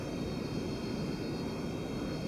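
A steady, droning airplane engine hum from a Textron aircraft taxiing to park in a flight simulator, continuous and even with no talk over it.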